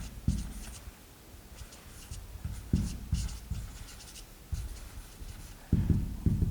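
Writing strokes on a board during a lesson on energy density and power density, heard as a steady series of short scratchy and tapping marks in irregular rhythm, close and fairly quiet, with no talk over them.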